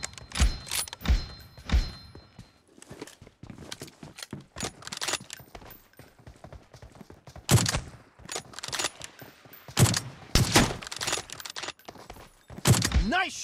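Sniper rifle shots from an M24 in PUBG Mobile: several loud, sharp cracks spaced irregularly across the clip, mixed with clatter and short bursts of other game noise, no talk.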